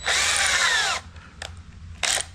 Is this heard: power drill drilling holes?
yes